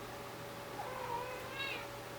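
A pet cat lets out two brief meows in quick succession, faint and in the background over a steady room hum and hiss, with no talking.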